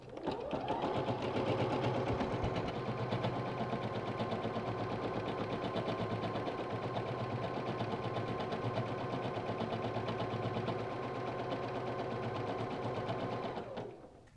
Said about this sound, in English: So I've got my machine all set and we're going to start stitching.